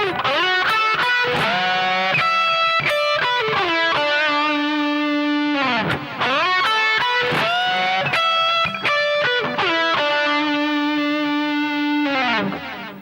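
Pentatonic guitar lick played through heavy distortion, with sustained singing notes, string bends and quick runs, loud and continuous throughout without any talking.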